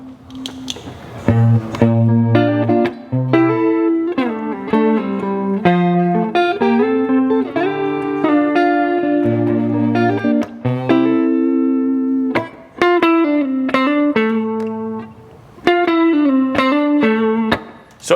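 Electric guitar through a chorus pedal playing sustained chords and arpeggios with a shimmering, swirling chorus effect, reverb off, loud and alone with no talking.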